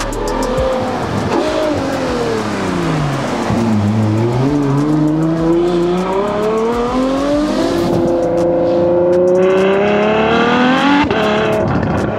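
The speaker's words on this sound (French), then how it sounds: "on ira faire un petit essai routier, voir ce que ça donne tranquillement à bord de ce V12 Atmo très frémissant" A Mansory-modified Ferrari F12 Stallone with a naturally aspirated V12 accelerating hard on a public road, its loud engine note rising and falling through repeated gear changes and climbing to a high, screaming wail.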